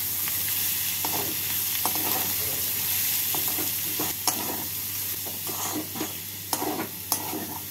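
Grated egg whites frying with onion, ginger and garlic in a pan for egg keema curry, giving a steady close sizzle broken by repeated scraping stirs, with no talking.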